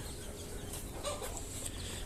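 Chickens on a poultry farm cluck softly in short scattered calls over a steady low background hum, with no talking.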